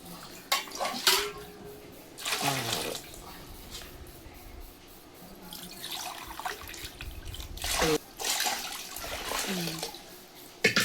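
Water poured glass by glass into a vessel to thin rice-flour batter for making crisp vadiyalu, heard as repeated splashing pours with clinks of the metal container between them, close and fairly loud, with no talking.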